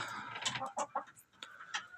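Chickens clucking close by in a backyard coop, a run of short, uneven calls piling over one another with a few louder squawks rising out of the chatter.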